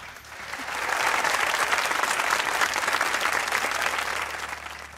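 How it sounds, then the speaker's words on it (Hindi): Studio audience gives a guest a warm round of applause, dense steady clapping swelling quickly and holding loud before tapering slightly at the end. "अजीका के लिए अच्छी तालियां बजाएं"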